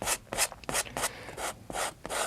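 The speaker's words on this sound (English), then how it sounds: "Push that paint right into the fabric." A brush pushes oil paint hard into canvas fabric, a close rhythmic scrubbing of about seven rough strokes, each a short dry rasp, with no voices.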